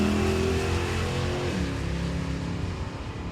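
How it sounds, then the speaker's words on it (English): Two drag cars, a Buick Grand National and a third-generation Camaro, roar down the strip at Hot Rod Drag Week, with loud, sustained engine noise and a rising rev that shifts partway through, no voices. "Randy Rodriguez and John Huber head down the racetrack. Huber in the Buick Grand National, Rodriguez in the 3rd generation Camaro."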